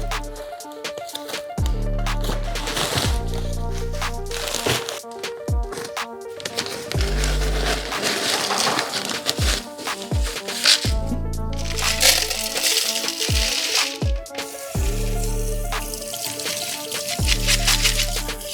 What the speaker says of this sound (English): Look, it's nearly done already, and I've only just turned the tap on.